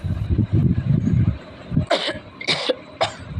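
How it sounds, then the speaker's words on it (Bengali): Three sharp coughs from one person, close and loud, come one after another after a stretch of low background murmur, set at home while washing and putting away dishes. "তো কাশি হয়ে গেল"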